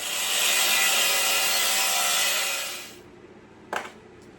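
Cutting away excess metal from a custom motorcycle front fender with a power tool, a loud steady grinding-cutting roar lasting about three seconds, then stopping, followed by a brief faint clunk.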